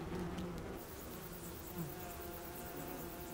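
A small spring colony of about 10,000 bees inside a nest of layered combs hangs from the roof of a large chamber in a Japanese forest. It gives off a steady, dense, close hum of many wings that does not let up.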